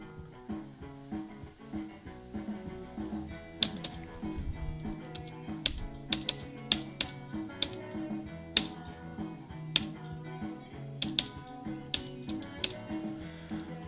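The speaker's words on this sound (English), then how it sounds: "I'm just hitting spacebar every time the word comes up" Repeated taps on a computer keyboard's spacebar, sharp irregular clicks sounding over steady background music for the whole stretch.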